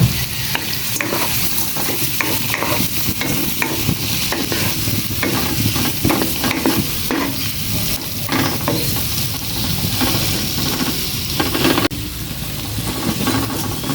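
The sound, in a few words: shrimp stir-frying with garlic, chili and onion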